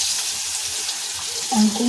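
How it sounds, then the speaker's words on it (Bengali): Pumpkin fries in hot oil with a continuous close sizzle and hiss, and a brief clatter sounds near the end. "তেল গরম হয়ে গেছে বন্ধু, এখন ঢালছি কুমড়ো ভাজা"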